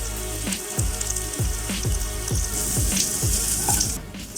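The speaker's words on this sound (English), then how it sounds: "I'm adding little bits of the flour, frying it, which will give me some crispy bits." Small bits of flour fry in hot oil with a continuous bubbling sizzle and repeated watery gurgles, close and fairly loud, with no talk.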